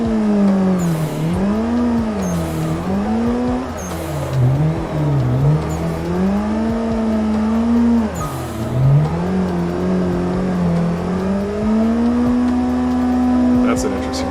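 A car's engine in the racing sim Assetto Corsa, with the throttle feathered while drifting, hums loud and close, its revs rising and dipping in repeated swells over a steady drone.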